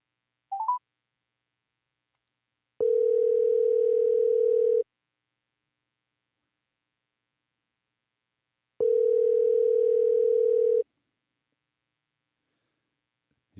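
A telephone dial tone sounds after a brief dialing beep, a steady two-second tone repeating twice with silence between, clean and alone while a phone call is being placed.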